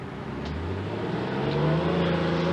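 A tank's engine revs up on a windswept, wintry driving course at Bovington during a 1987 Driving Force event, a loud, steady low roar that builds and strengthens across the whole moment.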